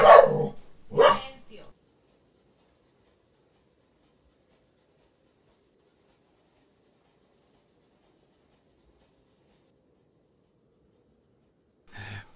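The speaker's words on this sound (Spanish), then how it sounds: "Perdón por los ladridos, pero estos, los sobes lomitos, se emocionan bastante." Excited dogs let out two sharp, close barks in quick succession, followed by a long silence and then a single bark at the very end.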